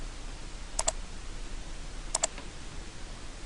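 Typing on a computer keyboard to enter a command in modeling software. Two short clusters of crisp key clicks come about a second and a half apart, close and fairly faint over steady background hiss, with no talking.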